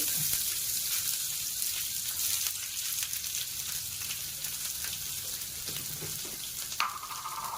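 Fenugreek, dried red chilli and onion sizzle steadily in hot oil in a clay pot, a continuous close crackle with a few louder pops and a brief sharper spatter near the end.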